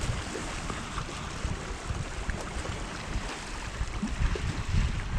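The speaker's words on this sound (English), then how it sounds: "you can hear the waves" Sea waves washing onto a shore beside the land at a nighttime campsite, a steady broadband wash with low rumble and gusts of wind noise on the microphone, continuous and fairly close throughout.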